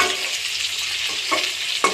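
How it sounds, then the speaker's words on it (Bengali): Capsicum frying in pure mustard oil, a loud, dense sizzle close by with a couple of brief stirring scrapes toward the end. "এই তেলটা দেখলে বোঝা যাবে যেটা একটা খাঁটি সরিষার তেল দিয়ে ভাজা হচ্ছে আর এটা হচ্ছে ক্যাপসিকাম"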